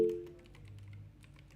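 Soft keystrokes tap on a computer keyboard, faint and quick, following a brief tonal blip at the start.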